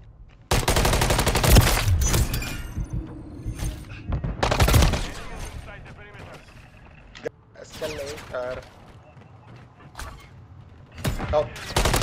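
Automatic rifle fire in the online shooter Call of Duty: Modern Warfare III ranked play, with loud close bursts and sustained fusillades, then scattered shots and game effects, and players talking over it.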